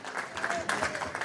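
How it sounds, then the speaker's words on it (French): Applause greets the Ukrainian president as he shakes hands with European leaders at a summit, a brisk burst of clapping in uneven surges, with a news narrator speaking over it. "Le président ukrainien salue un à un les dirigeants européens sous les applaudissements."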